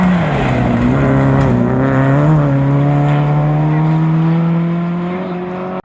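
A rally car on a stage rally in Ontario pulls away with a loud, sustained engine note that climbs steadily through the gears and stays close, then cuts off abruptly at the end.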